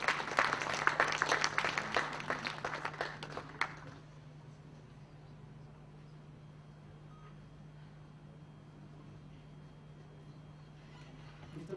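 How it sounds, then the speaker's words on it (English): Audience applause for a session chair being called to the dais at a technology conference, a brief burst of clapping fading out after about four seconds, followed by a quiet room with a steady low hum. "A round of applause for him, please"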